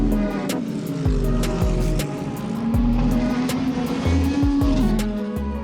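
Race cars at the start of the Sebring 12 Hour, packed tightly together, roar past at close range with steady engine drone and a rising whine, several cars overlapping continuously without a break.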